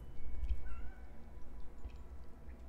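A cat gives a single brief, faint meow, close by but quiet over a low rumbling background.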